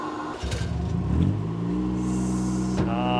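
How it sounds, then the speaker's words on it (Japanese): A hydrogen-engine Toyota Corolla race car revs up sharply at Fuji Speedway, its pitch climbing and then holding a steady, loud drone, with a brief mechanical clatter. "さあマッチさんの水素エンジンの初走行、"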